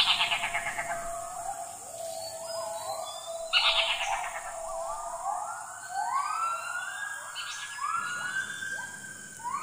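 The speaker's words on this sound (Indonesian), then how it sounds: "Ternyata suara aneh itu berasal dari burung cirik-cirik kembang." A large cirik-cirik kumbang bird gives loud, rising, whooping siren-like calls, repeated and overlapping, with sharp chirps early on over a steady high-pitched insect drone.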